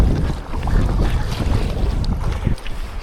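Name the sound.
sea waves and wind on an island coast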